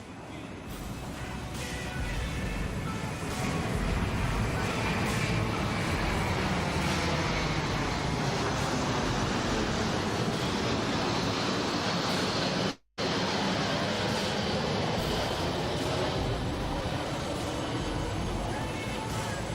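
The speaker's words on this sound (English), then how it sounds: "As the aircraft approaches from your right, notice the upturned wingtips or winglets." A Boeing C-17 military transport aircraft flies past at the Oshkosh airshow, producing a loud, steady jet roar that fills the air throughout, with slowly sweeping pitch as it passes overhead.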